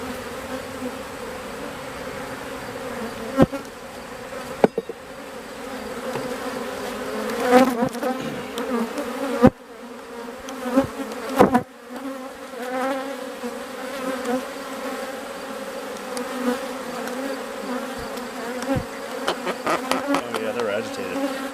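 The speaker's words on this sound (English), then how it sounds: "These are drone bees, and there's more bees, worker bees right there." Honey bees, drones and workers, buzz continuously at an open hive in a dense, close swarm drone, with occasional sharper knocks and handling clicks.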